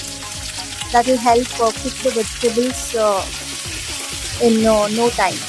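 Vegetables for sambar sizzle steadily in a hot pan, a soft continuous hiss running under a speaking voice and a melodic background.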